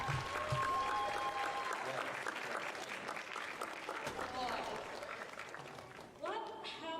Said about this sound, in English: I like how the crowd thought it was the end, and I just took it as applause for me